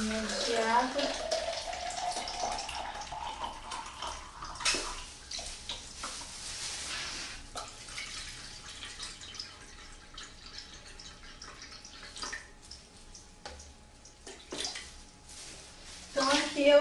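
Water poured into a container while making Easter eggs, a steady splashing stream with brief drips, fairly soft and close, with some background noise around it.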